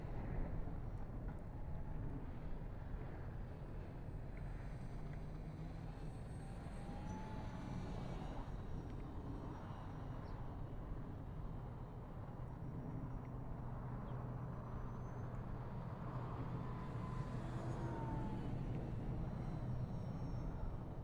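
An FMS F4U-4 Corsair RC model airplane (800mm) flies overhead, its electric motor giving a steady, continuous drone with subtle pitch shifts as it dives and pulls out, heard alone without talk.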